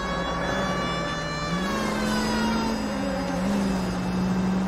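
Police car siren in the L.A. Noire video game, a steady wailing tone that slowly rises and falls, loud and continuous over engine and road rumble, with no talking.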